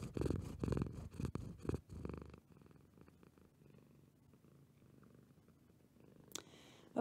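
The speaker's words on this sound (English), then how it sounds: "there's a cat in my lap now. And she's purring." A cat purring close to the microphone, a rough rhythmic rumble that is loud at first, then softer and steady, with a small rustle near the end.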